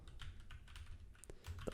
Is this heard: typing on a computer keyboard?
yes